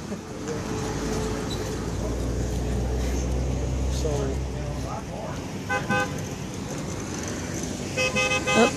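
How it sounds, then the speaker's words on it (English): Car horn honking in traffic, a few short repeated toots near the end following a stretch of loud engine and road rumble, with people talking nearby. "Oh, someone is honking."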